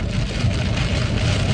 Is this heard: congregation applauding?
no